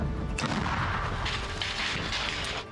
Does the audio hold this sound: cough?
no